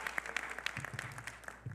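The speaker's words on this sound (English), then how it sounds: "I also like to give a round of applause to our moderators, Dr. Ridley and Dr." An audience at a church gathering applauds its moderators, brisk scattered clapping from a modest crowd, close and fairly clear, brief and unaccompanied by speech.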